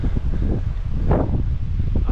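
Strong wind buffets the microphone in low, gusting rumbles, with a brief rushing surge in the middle.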